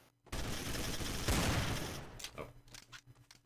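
Gunfire in the online game Trouble in Terrorist Town, a loud, dense burst of rapid shots lasting about two seconds, followed by scattered fainter shots and noises.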